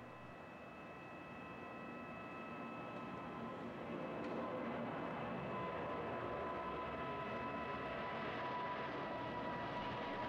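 A jet airliner departs Miami International Airport, its engines building into a steady, broad roar that grows slightly louder and holds, heard from a distance with no talk.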